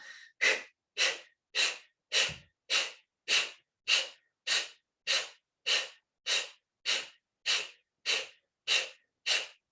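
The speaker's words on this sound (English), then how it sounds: "2 rounds of Kapalabhati breathing." Kapalabhati yoga breathing: a steady series of about sixteen sharp, forceful nasal exhalations, evenly spaced roughly every half second, loud and close with silence between them.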